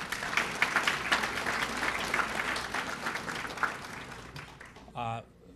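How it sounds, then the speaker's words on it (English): Room-wide applause at a morning heroes awards breakfast at the Joliet Country Club, dense clapping that thins out near the end before a brief tonal sound cuts in. "How about a round of applause for the Joliet Country Club for that great breakfast?"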